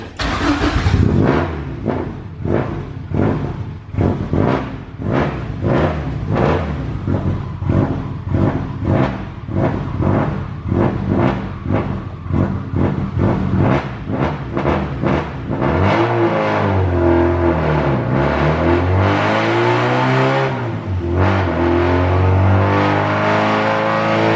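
A car starts and pulls away, loud and close: a pulsing, rhythmic engine note over the first half, then it revs and swells into smooth acceleration, with its pitch rising and falling as it drives.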